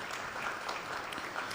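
Steady applause from an audience at a political event, dense clapping holding at an even level throughout with no voices over it.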